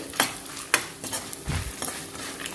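A spoon scrapes and clinks in a pan as salt and chili powder are mixed for a puffed-rice snack, several short sharp strokes with quiet gaps, close and fairly soft.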